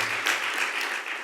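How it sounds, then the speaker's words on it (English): Audience applause for a guest's mother during an English-language church service, a steady broadband wash of clapping that holds for a little over a second with no talk over it. "So if we can give her a round of applause."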